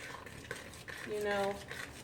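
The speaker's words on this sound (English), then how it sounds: "Then you take the rest of your all-purpose flour and just go ahead and dump that in. And then just keep mixing." All-purpose flour is mixed into a dough in a bowl, giving brief scraping and clinking utensil sounds, faint and close.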